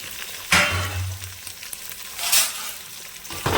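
Curry leaves, onion and green chillies fry in oil with a soft, steady sizzle that swells in two bursts as they are stirred. There is no talking.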